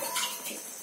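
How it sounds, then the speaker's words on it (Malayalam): Boiled, cooled water pours into a pan of North Indian dal fry made with toor dal, a soft, continuous splashing trickle that stays fairly quiet throughout. "ഞാനൊഴിക്കുന്നത് തിളപ്പിച്ചാറിയ വെള്ളമാണ്."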